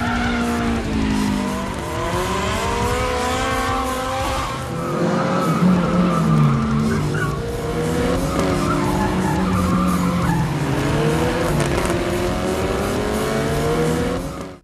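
Race cars launch at the start of a race, engines revving loud and continuous with rising and falling pitch sweeps, tires skidding and squealing throughout, dense and close for the whole stretch.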